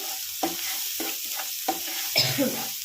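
A little oil goes into fried rui fish masala in a pan, giving a low sizzle broken by several short stirring scrapes and clatters, close and fairly quiet.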